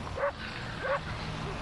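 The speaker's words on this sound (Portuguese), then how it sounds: "Por que esse cachorro não para de latir?" A dog barks twice from a distance, two short separate barks spaced well apart over a low steady outdoor background.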